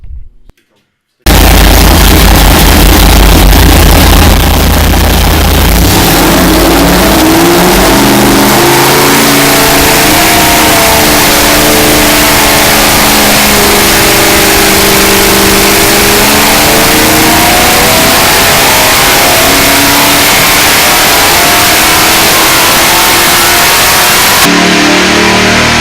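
A built Harley-Davidson Shovelhead V-twin with PRW aluminum rocker covers, new carburetor, distributor and ignition wires roars on a dyno at a machine shop, revving loudly and continuously with rising and falling pitch throughout, up close.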